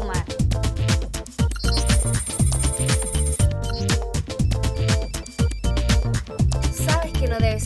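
A mobile phone rings inside a car, repeated electronic ringtone bursts in a fast rhythmic pattern, loud and close, with talk alongside.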